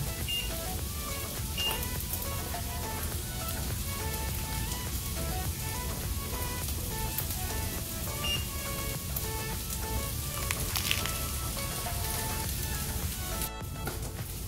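Beef frying in a pan for bulalo-monggo, a continuous rain-like sizzle that holds steady and fairly quiet throughout, with faint crackles and no talking.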